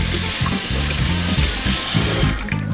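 Tap water runs steadily into a sink while horseradish root is rinsed, a loud, close continuous splash with no talking.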